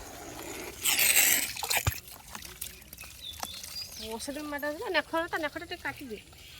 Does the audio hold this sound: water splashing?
yes